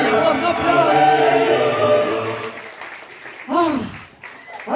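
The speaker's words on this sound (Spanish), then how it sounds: "¡Fuerte el aplauso para ese 10!" Audience applause at a televised concert gala, loud clapping and chatter for a few seconds that dies away as a voice calls out over the thinning crowd.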